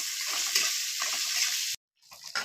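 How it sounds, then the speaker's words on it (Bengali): Roasted peanuts are stirred into semolina in a dry pan with a steady close hiss and scraping, which cuts out abruptly before a few softer scrapes return; no one talks. "ভালো করে নেড়ে চেড়ে মিশিয়ে নেবো"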